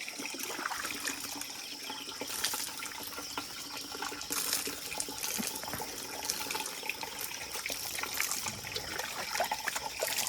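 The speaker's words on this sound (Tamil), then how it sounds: "அடுத்ததாக என்ன பண்ணிகிட்ருக்காருன்னா மாட்டை குளிப்பாட்டிகிட்ருக்காரு." Water poured and splashing steadily while a cow is bathed outdoors in a Tamil village, a continuous trickling and sloshing wash with occasional heavier splashes, fairly close, with no talk.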